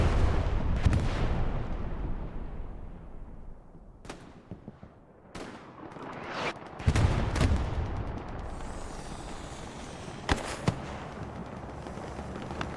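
Bombing-run explosions in the World War II shooter Hell Let Loose: a heavy rumbling blast opens, followed by several sharp distant detonations and cracks spaced apart, then another booming impact and a final pair of loud bangs, with no talking.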